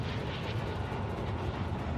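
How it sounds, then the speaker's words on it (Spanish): A helicopter in the Call of Duty Warzone 2.0 video game gives off a steady, dense rotor and engine rumble that holds constant throughout, with no other sounds. "Helicóptero marcado."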